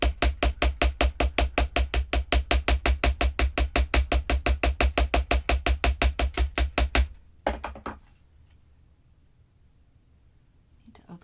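A hammer strikes crossed jewelry wire while an adjustable wire bangle is being shaped, about forty fast, even, loud metallic blows for seven seconds before the tapping stops and near silence follows.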